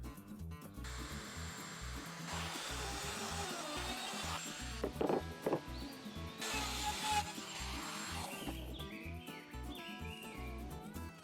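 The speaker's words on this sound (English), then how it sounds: "The router is used again to cut a recess in the back so the boards don't hit the bracket." A router whines steadily while cutting a recess into the back of a Trex composite decking board, a loud, continuous buzzing drone with slight shifts in pitch as the bit works through the material.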